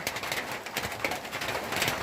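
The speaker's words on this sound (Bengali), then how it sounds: "বৃষ্টি নেমে গেছে।" Rain falls at a tea garden as a steady broadband hiss of drops with uneven patters, heard close and continuous, with faint bird calls mixed in and no talk.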